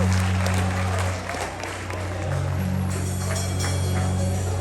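Concert audience clapping at a live Punjabi music show in the Bay Area, a dense steady patter of many hands sustained throughout over a low droning musical backing, with no words spoken.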